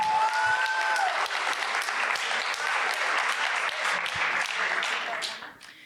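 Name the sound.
audience applause for speaker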